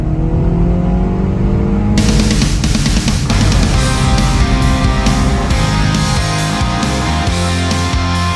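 A MINI with a new carbon fiber hood pulls out under steady engine hum, and the revs climb with a rising whine as it accelerates. The engine sound stays loud and close throughout.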